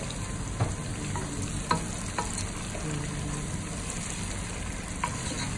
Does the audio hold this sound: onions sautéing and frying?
yes